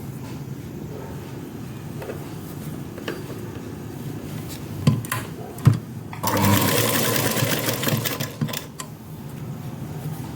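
Sewing machine stitching the shoulder seam of a collared dress, heard close up as a quiet whir with a few knocks, then a louder run of rapid stitching partway through before settling back down.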